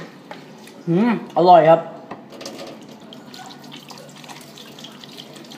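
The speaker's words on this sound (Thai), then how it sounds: "ขอล้างมือก่อนครับ" Water runs from a kitchen tap in two short bursts as hands are rinsed, followed by faint splashes and clatter while someone talks briefly nearby.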